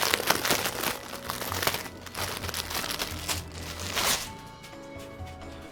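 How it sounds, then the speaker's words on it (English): Thick plastic sheet crinkles and crackles up close in dense, continuous handling, loud at first and easing slightly toward the end, with no talking. "This is a plastic ASMR video."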